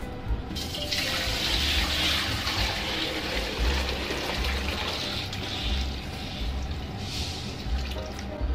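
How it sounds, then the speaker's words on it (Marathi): A steady stream of water pours continuously into a cooking pot on a stove, a constant splashing rush with no talking. "आणि पाणी ओतूयात तापण्यासाठी."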